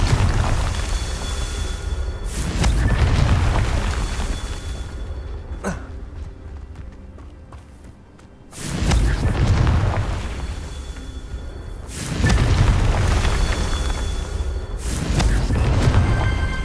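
Explosive Confringo spell blasts go off in Hogwarts Legacy. Heavy, rumbling booms come in loud bursts with quieter stretches between them, and there is no talk.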